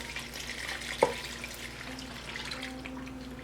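Water runs from a kitchen tap into a cooking pot being filled for white beans and neck bones, a steady close rushing stream with one brief knock partway through, no talking.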